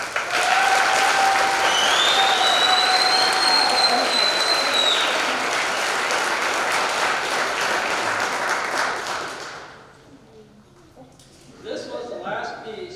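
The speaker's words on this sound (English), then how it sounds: "Let's give these 5 ladies one more final round of applause for their outstanding performance tonight" A pageant audience claps loudly for five contestants, with dense sustained applause punctuated by high whistles and cheers. The clapping fades out after several seconds, leaving near quiet before a voice begins speaking at the end.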